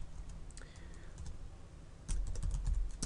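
Computer keyboard typed on at a steady pace, quiet clicky keystrokes in quick runs with a brief pause, louder and denser toward the end, close with low room hum, no talking.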